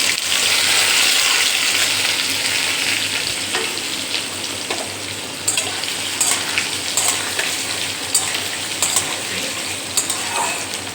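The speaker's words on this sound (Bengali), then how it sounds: "সবজিগুলো ঢেলে দিলাম" Vegetables sizzle and fry steadily in mustard oil with cumin and a bay leaf, with occasional stirring clatter over a continuous hiss.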